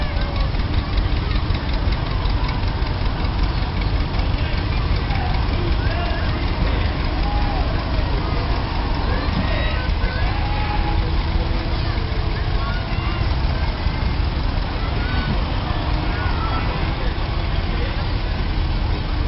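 Tractor engines in a fall festival parade in Mount Pulaski, Illinois rumble and idle in a steady, continuous drone, fairly loud and close, with a faint mix of other noise underneath.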